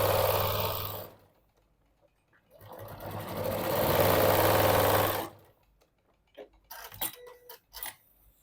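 A sewing machine top stitches a quilted boxed pouch in two bursts of rapid, steady stitching, followed by quieter clicks and handling noises.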